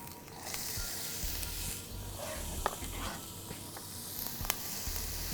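Onion hits hot oil in a pan and sizzles steadily, a close, even frying hiss with a few small pops and crackles.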